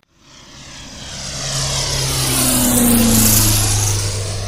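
Single-engine propeller airplane accelerating down the active runway for takeoff, engine drone swelling from quiet to a loud steady roar with rising propeller pitch, no talk.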